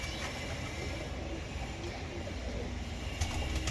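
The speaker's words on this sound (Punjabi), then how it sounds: "ਇਹ ਸਰ ਕਬੂਤਰ ਆ ਜੀ" Pigeons in a home loft of old pure-lineage birds coo low and steadily, the soft calls half-buried under constant broadband background noise, with a slightly louder stretch near the end.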